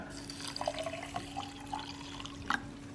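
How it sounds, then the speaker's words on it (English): Vinegar trickles quietly onto eggshells in a jar, a faint thin pour with a few soft drips and light splashes and a steady low hum beneath. "And we'll add some vinegar."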